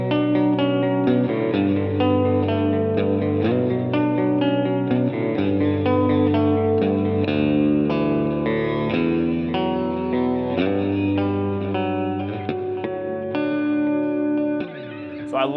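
A Mayones electric guitar with Seymour Duncan pickups split to single coil, played clean with a shimmery chorus-like sheen; loud sustained chords and picked notes ringing continuously, ending with a brief slide.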